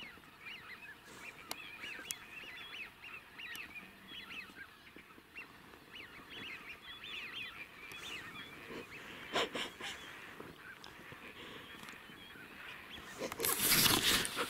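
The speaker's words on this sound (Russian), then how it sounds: "Гусь пошел." Geese honk in the distance from open hunting grounds in spring, with repeated calls over a steady outdoor background and a louder burst of sound near the end.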